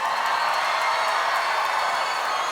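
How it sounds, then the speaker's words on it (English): A festival crowd at Belladrum 2024 applauds and cheers in a dense, steady wash of clapping and shouting that fills the whole moment, loud and close, with no single voice standing out. "Big round of applause, make some noise!"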